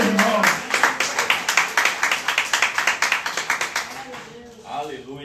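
Congregation clapping in steady rhythmic unison during a church service, loud and close, with the beat thinning out toward the end as a voice comes in.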